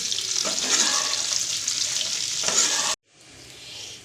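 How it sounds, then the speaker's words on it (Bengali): Onion and capsicum sizzle steadily in the leftover mushroom-frying oil for a restaurant-style chilli mushroom, a loud broadband crackle that breaks off abruptly near the end and resumes more quietly. "স্কুপ করে রাখা পেঁয়াজ আর ক্যাপসিকাম স্কুপ করে রাখা সেটাও দিয়ে দিচ্ছি। এবার হালকা করে ভেজে নেব।"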